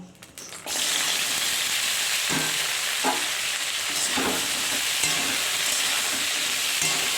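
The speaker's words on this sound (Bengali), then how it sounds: "কড়াইতে যে তেলটুক ছিল বাদামের ওই তেলের মধ্যে আমি সব সবজিগুলো দিয়ে দেবো" Vegetables hit leftover peanut oil in a kadai with a sudden loud sizzle, then fry steadily with rhythmic stirring scrapes and crackles.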